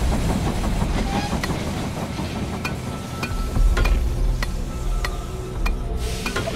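A train pulling into a station in the strategy game They Are Billions rumbles on steadily with a repeated clickety-clack of wheels over rail joints. It stays loud and continuous, and a lower swell builds partway through.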